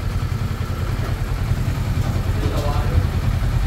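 A Kawasaki Ninja 400 motorcycle engine idling after an overhaul, a steady low rumbling putter close by, with a voice talking over it.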